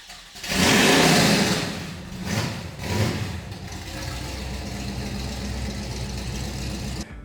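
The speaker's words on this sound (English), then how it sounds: "the exhaust, it's freaking loud" A muscle car's loud exhaust: one sharp, powerful rev, then two shorter throttle blips, settling into a steady, rumbling idle close by.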